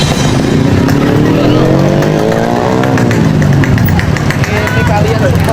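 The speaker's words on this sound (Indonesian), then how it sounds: "Knalpot brong, knalpot brong, berhenti." Motorcycles fitted with loud aftermarket brong exhausts rev and roar nearby, engine pitch climbing then falling as a bike passes, with crowd noise and voices mixed in.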